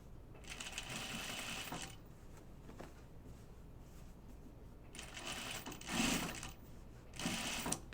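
A sewing machine stitches a dress in bursts of fast, steady needle chatter, close and fairly loud, separated by pauses, with a faint hum and light background noise between runs.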